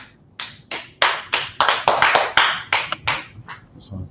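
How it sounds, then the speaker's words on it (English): A small group claps for a class, a sparse run of sharp, distinct handclaps, separate and uneven at first, bunching together in the middle and then trailing off, close and fairly quiet. "Clap it up for the class."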